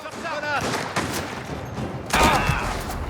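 Gunfire in the crime video game Mafia, several sharp shots and a rapid burst ringing out over a busy game soundscape, moderately loud with a short pause between volleys.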